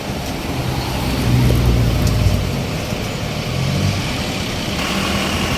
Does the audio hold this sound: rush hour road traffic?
yes